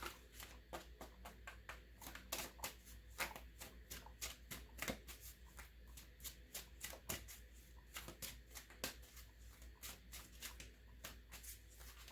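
A deck of playing cards being shuffled over and over, close up, with a steady run of crisp riffling bursts and soft card taps repeating for several seconds, no voice.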